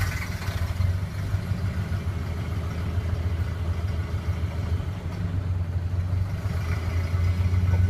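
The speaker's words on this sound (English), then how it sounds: "So let's get the 28 started up and see how it sounds." A 1928 Model A Ford engine idles steadily with its new muffler, a low, even rumble with light mechanical clatter, close and continuous throughout.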